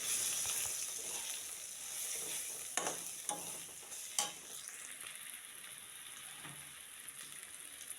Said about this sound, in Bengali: এই পেঁয়াজ ভাজার মধ্যে একটু গোটা জিরা ছেড়ে দিলাম।